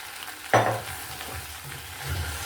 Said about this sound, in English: Just mix everything together, and then I'll just add my pumpkin.